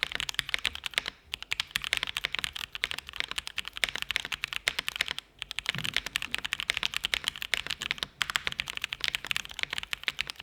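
Steady typing on a Drop mechanical keyboard with Gateron Brown switches, rapid clacky keystrokes close up with a few brief pauses, no talking.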